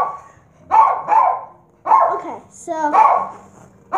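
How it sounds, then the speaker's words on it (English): A dog barks in several loud, close bursts with short pauses between them; a person briefly speaks near the end. "dog's even barking at you."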